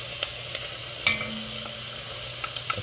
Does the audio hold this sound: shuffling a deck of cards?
no